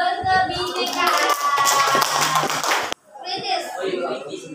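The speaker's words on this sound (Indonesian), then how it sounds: "Tepuk tangan untuk kelompok berkebinekaan." Classroom of students claps for a student group, a brisk burst of hand clapping mixed with children's voices that cuts off abruptly, followed by quieter chatter.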